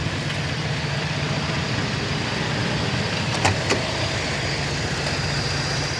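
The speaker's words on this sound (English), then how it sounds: "Engine runs beautifully, just nice and quiet." A restored 1971 Chevrolet K-10 truck engine idles smoothly and quietly in a steady low hum, with a couple of faint clicks midway.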